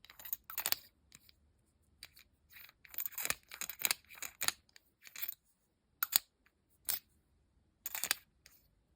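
Black aluminum Kaweco ALSport fountain pen cap twisted and clicked on and off, a series of bright, close metallic clicks and scrapes in irregular bursts with short pauses.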